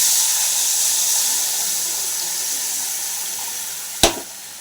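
Dissolved tamarind water poured into a pan while cooking curry leaf kulambu gives a steady hissing, rushing flow that fades slowly and ends with a single sharp click. No one speaks.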